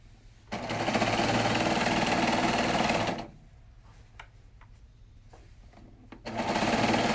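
A serger sewing machine stitches a ruffle quilt in loud, steady bursts of whirring, running for about three seconds, pausing amid quiet handling noises, then starting up again.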